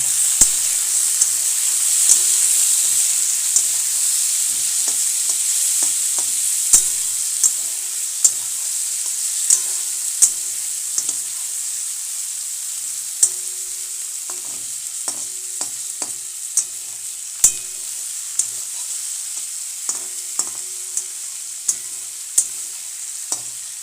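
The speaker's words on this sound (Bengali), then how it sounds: "টমেটো ভাজা হয়ে গেছে" A whole cut tomato fries in a pan with a steady, bright sizzle, broken by frequent sharp clicks and scrapes of stirring throughout, with no talking.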